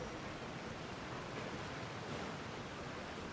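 Loud flowing water in Genshin Impact rushes as a dense, even hiss, steady throughout with no voices.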